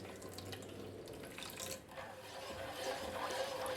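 Water is poured into a pan of jaggery for adaprathaman payasam, a continuous faint splashing trickle heard close with light clinks and no talk.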